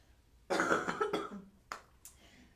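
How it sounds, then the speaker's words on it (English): A few sharp coughs up close, a quick burst of hacking followed by two shorter coughs, with quiet in between. "I have a little cough coming in"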